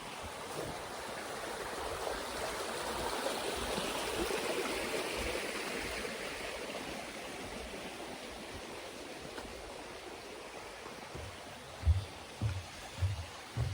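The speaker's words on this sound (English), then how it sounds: "And here's another creek." A creek in the Virginia woods along the Appalachian Trail flows in a steady, close, broadband wash of water, with a few low thumps near the end.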